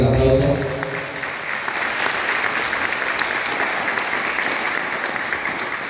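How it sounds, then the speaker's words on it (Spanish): Loud, steady applause from a crowd at a council of elders ceremony in Caxhuacan, Puebla, rising just after a brief voice at the start and continuing evenly throughout. "Fuerte el aplauso."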